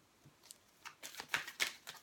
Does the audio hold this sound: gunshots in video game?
no